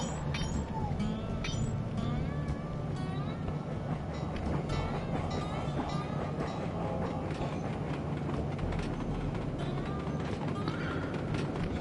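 A train in the video game Sly 2: Band of Thieves rumbles steadily for the whole stretch, with a clattering, rolling texture and faint chatter layered on top.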